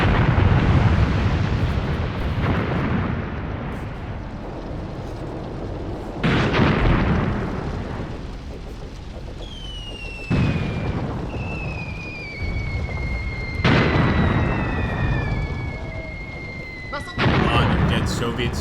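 Soviet light mortar explosions in the WWII tactics game Graviteam Tactics: Mius Front: several deep, heavy booms a few seconds apart, each fading into a long rumble, with descending whistles between them.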